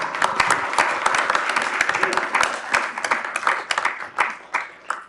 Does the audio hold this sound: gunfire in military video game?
no